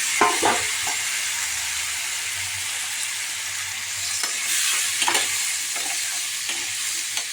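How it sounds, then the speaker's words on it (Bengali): Food frying and being stirred in a pan, a steady close sizzle with occasional scraping stirs and faint clinks running the whole way through, no talk over it. "যতটা সুন্দর ভাজা যায় ততটা সুন্দর করেই ভেজে নিচ্ছি"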